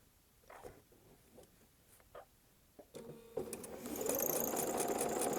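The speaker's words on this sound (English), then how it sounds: "And stitch that inch." Sewing machine stitching along a curved fabric edge, starting with soft handling taps and clicks before the motor kicks in and runs steadily and fairly close for the last couple of seconds.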